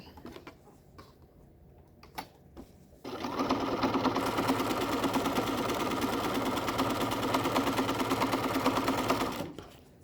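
A sewing machine stitches a cloth face mask with a filter pocket and elastic ear loops. After a few quiet seconds with faint handling, the motor starts abruptly and runs in one steady, close, busy whir for about six seconds before stopping.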